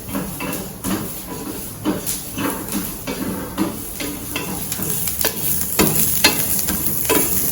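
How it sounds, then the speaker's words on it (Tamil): Garlic and onion sauté in hot oil in a pan, giving a steady loud sizzle and hiss with frequent scraping stirs throughout. "இப்போ இதில் இந்த பூண்டையும் வெங்காயத்தையும் போட்டிடணும், சேர்ந்து வதங்கணும்."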